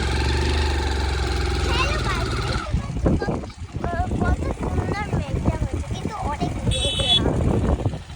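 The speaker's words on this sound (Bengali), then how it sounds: "আমরা বাইক নিয়ে যাচ্ছি।" A motorbike engine hums steadily while riding, loudest at the start, then continues as a lower drone beneath people talking for most of the stretch.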